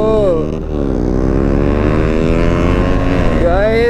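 A KTM Duke 390 and a Yamaha MT-15 accelerate hard in a drag race, loud close engine roar with rising pitch through gear changes, sustained throughout, heard from a riding motorcycle with wind noise.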